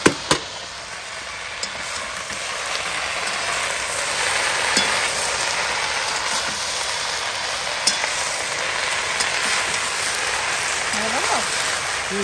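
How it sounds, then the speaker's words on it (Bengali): Pieces of fish sizzle and fry steadily in hot oil in a pan, a constant crackling hiss with occasional clinks of stirring, while a person talks over it. "এর মধ্যে এবার মাছগুলো একটু একটু করে দিয়ে নাড়তে হবে"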